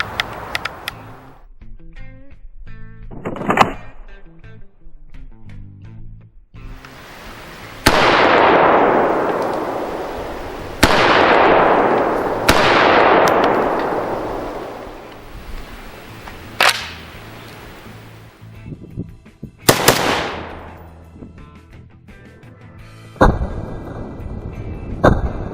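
Century Arms C308, a 1950s-pattern .308 battle rifle, fired in a rapid string of loud, sharp reports, each shot followed by a long decaying echo, with softer mechanical clicks between bursts and no talking.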